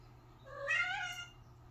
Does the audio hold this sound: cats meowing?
yes